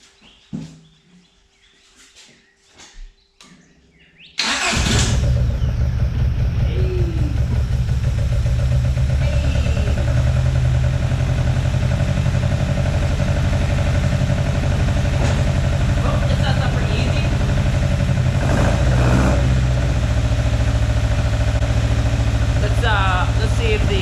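A 4A-GE car engine, fitted with a new starter motor, cranks and catches after a quiet stretch of faint sounds, then settles into a loud, steady idle close by, with a few brief voices over it.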